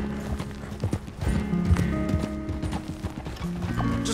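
Horses galloping in the Western video game Red Dead Redemption 2, a close, steady rhythmic clip-clop of hooves with jingling tack, over a low tonal music bed and no speech.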